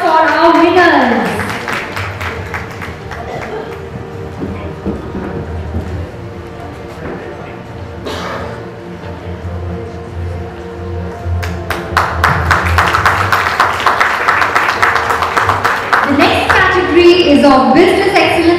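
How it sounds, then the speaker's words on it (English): An audience at an entrepreneurship conclave award ceremony claps for winners, with dense applause building toward the end while an announcer speaks over a hall sound system. "A round of applause for our winners."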